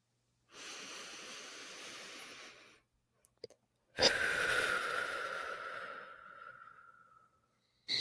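Slow, deep breaths taken during a guided breathwork practice: a long steady inhale, a brief pause with faint clicks, then a loud, rushing exhale that fades out, close to the microphone with no talk.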